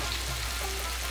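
Chicken pieces frying in a pan for chicken bhuna, a close, steady sizzle heard alone for about a second.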